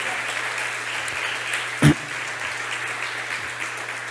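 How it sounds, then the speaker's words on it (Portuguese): A church congregation applauds for Jesus during a sermon, a soft, diffuse wash of clapping at a distance with a single sharp thud partway through. "Você pode dar uma salva de palmas para Jesus"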